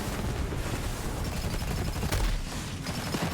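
Dense, continuous burst of mech gunfire with infinite ammo in Borderlands 3, loud and close, rapid shots blurring into an unbroken roar with a few sharper cracks and heavy low rumble, no talk.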